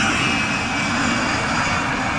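A-4 Skyhawk jet aircraft at the Warbirds Over Wanaka airshow in New Zealand, its engine roar loud, steady and continuous throughout, with no speech.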